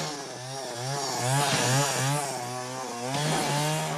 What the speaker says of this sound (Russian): И неважно, как ловко ты обращаешься с бензопилой.